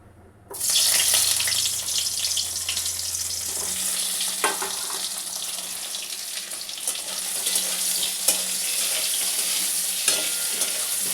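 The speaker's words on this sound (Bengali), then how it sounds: "আলুগুলোকে বন্ধুরা ভালো করে ভেজে নিই আমি।" Parboiled potatoes hit hot oil with a sudden loud burst of sizzling, then keep frying in a strong, steady crackle, with occasional stirring scrapes close by.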